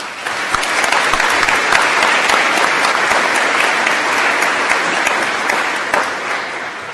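Sustained, loud applause fills a commencement ceremony hall for the College of Engineering, a thick continuous clapping from a large crowd that eases slightly toward the end.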